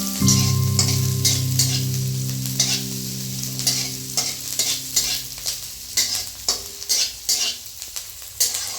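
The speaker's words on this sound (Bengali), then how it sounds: "এগুলো একটু ভাজা ভাজা করে নিচ্ছি।" Chopped garlic, onion and slit green chilies sizzle loudly in hot oil, with a steady frying hiss and repeated scraping stirs of a spatula in the pan, no voices.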